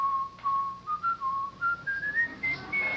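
A man whistles a short melody alone, clear and close, with notes stepping gradually upward in short phrases.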